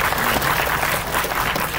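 Audience applause at a film trailer launch press meet, a dense, loud, continuous burst of many hands clapping close by.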